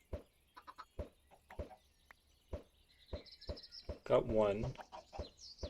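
Minecraft chickens clucking in a blocky game world, short soft clucks scattered through the clip among clicky game sounds, with a brief word spoken partway through.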